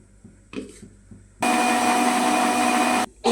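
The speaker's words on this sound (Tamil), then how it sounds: "இப்போ இதெல்லாம் நல்லா அரைச்சி எடுத்துக்கலாம்." A mixie jar grinds mint, green chilies, ginger garlic paste and coriander into pani puri water, starting with a few short knocks and then running as a loud, steady motor whine for about a second and a half before cutting off.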